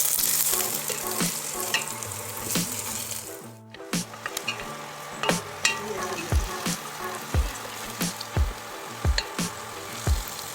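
Mushroom biryani masala with mint and coriander fries quietly in a pot, a soft continuous sizzle broken by irregular stirring clicks and taps that grow more frequent toward the end.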